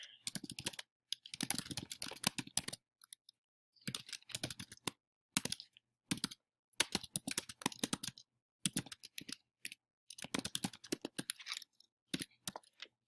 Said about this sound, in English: So I'm going to just add some text.